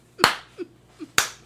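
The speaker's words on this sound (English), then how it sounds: "He started a slow clap." Two sharp, quiet claps about a second apart make a slow clap, with a couple of faint softer taps between them.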